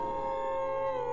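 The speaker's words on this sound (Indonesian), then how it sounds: "Suara anjing hutan melolong pun datang silih berganti." Sustained howling of a wild dog at night in the forest, one steady, drawn-out tonal wail with a slight wavering pitch, heard alone and moderately close.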